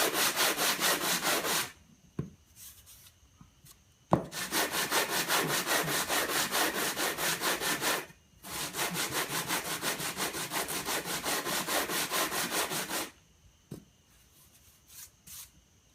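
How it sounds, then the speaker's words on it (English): An 80 grit flap disc on a grinder scours a rough wooden surface in three long, loud, gritty bursts, separated by short near-silent pauses. "And you can really sand it off until you get rid of all the hard spots."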